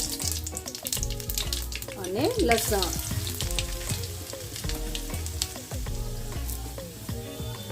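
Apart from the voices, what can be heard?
mustard seeds, cumin and curry leaves sizzling in hot oil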